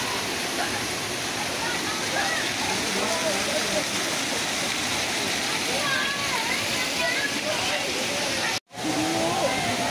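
Waterfall at Curug Pangeran, a dense, loud, continuous roar of falling water with splashing, broken once by a brief cut near the end, and voices of visitors faintly mixed in the background.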